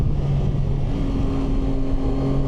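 A Yamaha Tracer 9 GT motorcycle's engine hums and rises in pitch as it pulls, a steady close drone with a smooth shift partway through, no voices.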